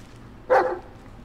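A single sharp dog bark in the Blair Witch video game, loud and close, standing alone against a low, quiet background.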